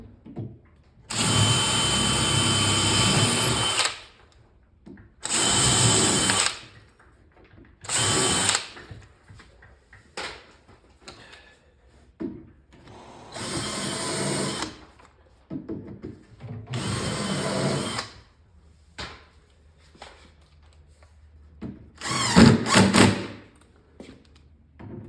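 A power drill drives screws into the wooden panels of a Pac-Man arcade cabinet, several whirring bursts of a few seconds each with pauses and light handling knocks between them.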